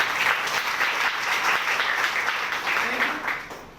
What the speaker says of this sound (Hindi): सर के लिए पहले एक बार जोरदार ताली।